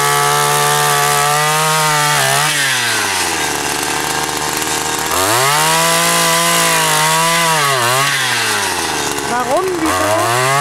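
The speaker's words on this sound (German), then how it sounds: "Die Löcher werden etwas tiefer gemacht." Power tool deepening holes in wood while building a zucchini climbing trellis, a loud continuous motor whine that rises and falls in pitch as it bites into the wood, steady throughout.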